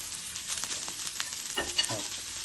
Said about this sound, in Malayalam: അതൊന്ന് സോട്ട് ചെയ്ത് നന്നായിട്ട് സോട്ട് ചെയ്യണം